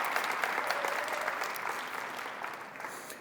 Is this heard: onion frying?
no